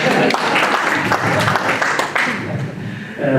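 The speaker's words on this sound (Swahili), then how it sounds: "Hapa ndio watu kupiga makofi." An audience applauds at a journalists' engagement event in Uasin Gishu, Kenya, a brief burst of dense, steady clapping that thins toward the end.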